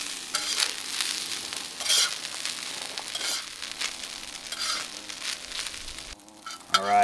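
Rice and other ingredients are stirred and scraped together on a Tembo Tusk Skottle griddle, giving repeated close scraping strokes over a continuous sizzle, ending with a brief pause and a final clatter.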